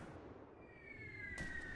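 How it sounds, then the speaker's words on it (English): Artillery system firing in the video game Artificial Extinction 2, a short burst of a whistling tone followed by a sharp bang near the end, moderately loud over a low rumble. "I see the artillery system firing."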